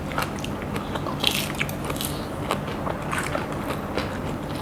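Crisp crunching bites into fried crispy pork belly cubes eaten with papaya salad containing stink beans, close and clear, with repeated sharp crackles spread over a few seconds in a quiet room.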